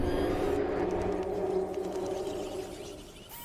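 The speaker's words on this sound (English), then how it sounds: "That's the sound of the mighty T-Rex." A T-Rex in PUBG Mobile gives a long, low, droning roar with a tonal, cooing quality that slowly fades over about three seconds, heard alone without speech.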